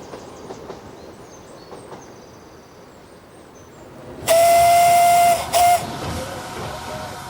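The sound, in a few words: steam locomotive of an 1830 design whistling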